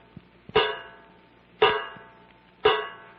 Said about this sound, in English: The water, I hear it dripping.